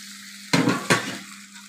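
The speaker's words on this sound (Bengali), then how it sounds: "এখন আমি এতে দিয়ে দিব বেগুন আর আলুগুলো আমি তেলে একটু ভেজে নিয়েছি।" Fried eggplant and potatoes stirred into hot masala in a pan for a Bengali fish bhuna, giving two sharp bursts of loud sizzling with spoon scrapes over a quiet background hiss.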